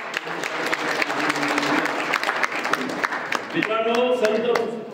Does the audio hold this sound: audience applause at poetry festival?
yes